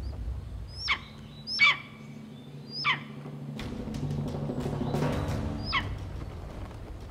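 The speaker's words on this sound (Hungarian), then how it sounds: "Ez a fiatal madár hangosan kéreget." A young common buzzard begs loudly for food with a series of sharp, descending squealing calls, about five of them spaced roughly a second apart, over a low rumbling background.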